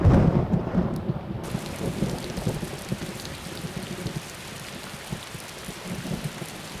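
Heavy rain hisses steadily in a Commandos 2 video game thunderstorm, opening with a deep, rumbling roll of thunder that fades into an unbroken downpour.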